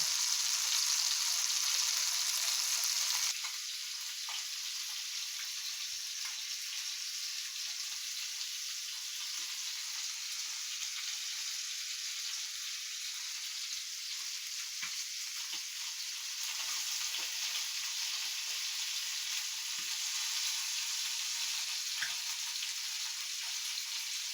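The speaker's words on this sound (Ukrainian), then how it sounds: "Смажемо останні кусочки" Fish sizzles steadily in a hot pan, a continuous crackling hiss that drops slightly in level early on and then holds.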